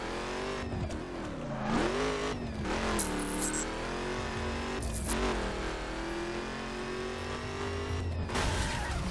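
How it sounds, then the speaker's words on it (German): A performance car in the racing game The Crew revs hard through rising and falling gear changes, with tire squeals and skidding, loud and close throughout with no talking. "Ich teste jetzt mal ein bisschen den neuen Wagen,"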